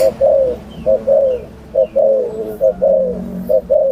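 A trained decoy bird, a dove, coos in repeated short phrases roughly every half second to second, close and clear over quiet outdoor background.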